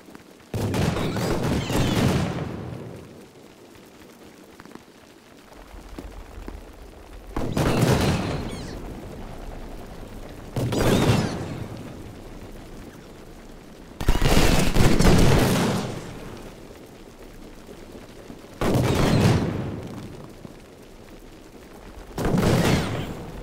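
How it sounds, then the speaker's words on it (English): Cannon fire in the Civil War strategy game Ultimate General: Civil War, with about six loud, booming volleys at irregular intervals and each one rumbling briefly before it fades, with no talking between them. "nothing's really stopping me from just continuing to cannon them"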